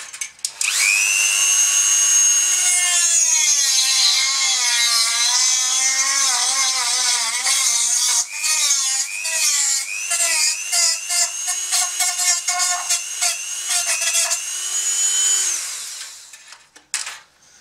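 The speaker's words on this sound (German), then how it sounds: "das mache ich jetzt mit dem Dremel sauber und nochmal einmal richtig grad" A Dremel rotary tool grinds a part clean on a Bruder Volvo dumper toy being converted to RC. Its shrill whine runs close and loud for about fifteen seconds, pitch wavering as the bit bites and eases, with no talking.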